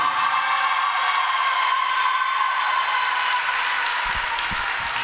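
Volleyball senior night crowd applauds, with sustained loud clapping and cheering from a gym full of fans that holds steady throughout.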